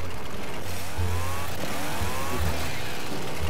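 A video game chainsaw revs with a rough, low motor buzz and rising whining sweeps, running steadily for a few seconds up close with no talking.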